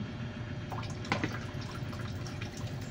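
Water runs from a kitchen tap to rinse off sticky sap while young jackfruit is prepared. A quiet, steady trickle carries a few splashy drips close by, with no voices.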